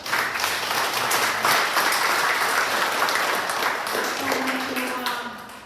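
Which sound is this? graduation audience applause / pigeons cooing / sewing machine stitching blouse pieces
graduation audience applause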